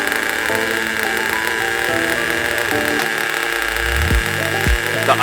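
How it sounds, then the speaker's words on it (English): A small ENYA 11CX nitro race engine runs loud and close on a test stand just after a first startup during break-in, its buzzing idle wavering and surging unevenly with a few sharp revs near the end. "idle will even out as it starts to warm up and get the fuel circulated through the engine"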